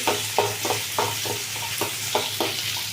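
Onions frying in a pan, stirred with a spoon: a steady close sizzle with a rhythmic series of scraping stirs, about a dozen strokes over a few seconds, and no voices.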